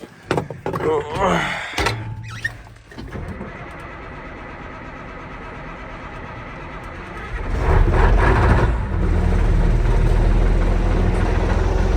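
A Steiger Cougar tractor, helped by a shot of ether, cranks after a door clunk and some rustling, then catches and settles into a steady low diesel idle that grows louder and rougher near the end.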